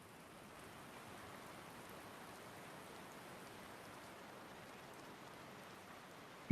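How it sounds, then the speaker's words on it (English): Heavy rain falls as a steady, even hiss with no breaks, faint and continuous throughout. "now what was once just a light rainstorm is now a little bit more of a heavy rainstorm"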